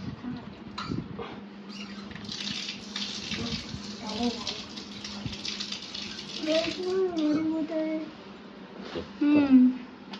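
Water runs steadily from an Aqua water filter tap being fitted, a continuous splashing flow under close, intermittent talk from people nearby.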